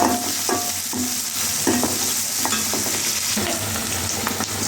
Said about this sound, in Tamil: நல்லா வதக்கிக்கலாம், கோல்டன் ப்ரௌன் வர வரைக்கும்.